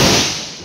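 A single loud firecracker bang during Lakshmi Puja booms close by and rumbles away over a fraction of a second.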